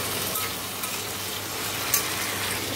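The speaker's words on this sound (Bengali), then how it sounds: "তো তাই জন্য আলুটা ভাজা হচ্ছে" Potatoes frying in a pan beside a pot of rice on a home cooking stove, giving a steady, close hiss of sizzling oil with no speech.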